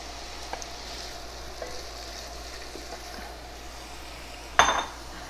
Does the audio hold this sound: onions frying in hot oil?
yes